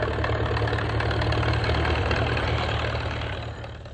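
An old steam-driven engine runs at a California agricultural heritage celebration, giving off a loud, steady low rumble with a continuous mechanical churn that holds even throughout and eases only slightly at the end.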